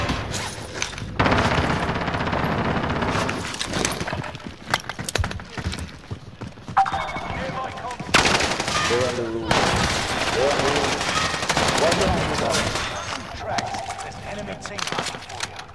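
Rapid machine gun fire in a Call of Duty: Modern Warfare match, dense bursts of automatic shots packed over a busy, loud game mix, with a player talking over the action throughout.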